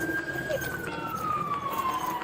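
A police car siren wails faintly in the distance, its tone gliding slowly downward under a steady wash of street noise and low background sound.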